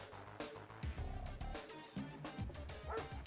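Dogs in the video game Red Alert 2 bark repeatedly in a quick, uneven series of yips and woofs, close and fairly loud, with game effects underneath.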